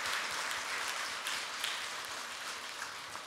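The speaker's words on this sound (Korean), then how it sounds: "우리 하나님께 영광의 박수 올려드립니다" A church congregation applauds during a Sunday worship service, a dense, steady wash of clapping that holds evenly throughout at moderate distance.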